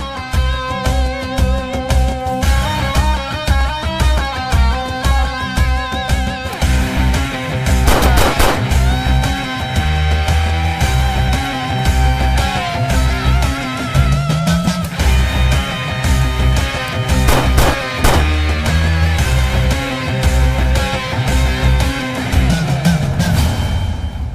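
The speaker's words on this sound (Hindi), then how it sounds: "3 लोगों पर गोलियां चलाई गई हैं" Gunfire in an action scene of a South Indian film: dense, loud bursts of shots, some in rapid machine-gun runs, sound throughout with a thick music score and effects under them.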